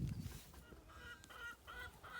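Chickens free ranging on grass on a morning, soft clucks and brief calls rising over a low outdoor background, moderately near and fairly quiet.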